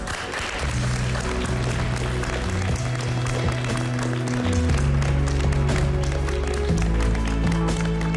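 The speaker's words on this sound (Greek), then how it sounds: "θέλω όλοι μαζί να υποδεχτούμε με ένα ζεστό χειροκρότημα τους αγαπημένους σας γονείς" Warm audience applause at a children's cooking competition finale, sustained and loud, blended with backing music that has steady low notes throughout.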